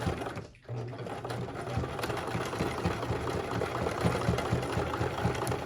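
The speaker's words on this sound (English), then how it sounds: "you want to pick a spot on your mask, and you're gonna start sewing" A sewing machine stitches a fabric face mask in a steady, close mechanical whir after a brief start-up pause, running continuously with no talking.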